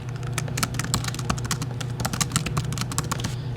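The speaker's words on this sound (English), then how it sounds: "let's say that you are typing away and adding code" Fingers type quickly on a computer keyboard while code is entered in Xcode, a dense, close run of crisp key clicks with no talking.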